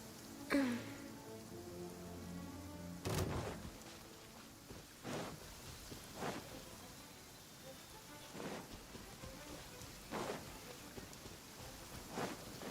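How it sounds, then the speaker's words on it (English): Steady rain falling in a video game courtyard, a soft continuous patter with scattered louder drips and splashes repeating throughout, heard alone at low volume. "I love listening to the rain from the courtyard."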